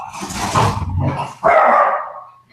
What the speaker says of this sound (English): It sounds like Lisa's dog is very interested.